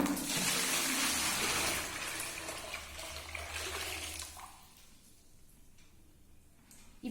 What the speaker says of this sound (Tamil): வாங்க இப்போ நம்ம இதில் தண்ணி ஃபில் பண்ணிக்கலாம்.